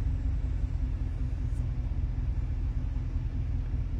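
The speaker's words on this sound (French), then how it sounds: "T'entends ce V8 là, alors écoute ça là" A V8 car engine, recently repaired after a fire, runs at a steady idle, a deep continuous rumble heard close and fairly loud with no talk over it.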